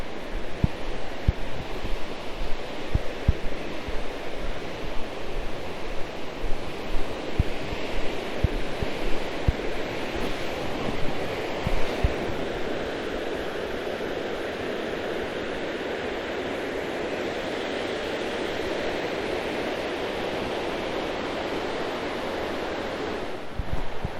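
Water rushes continuously through a full mountain stream in the Serra do Caramulo, a broad steady roar with wind buffeting the microphone and occasional low thumps, no voices.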